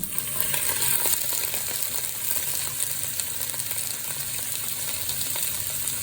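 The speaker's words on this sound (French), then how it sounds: "Je rajoute les topinambours qui sont égouttés." Drained Jerusalem artichokes tipped into a pan of frying onions, giving a steady, close, bright sizzle with faint stirring scrapes throughout.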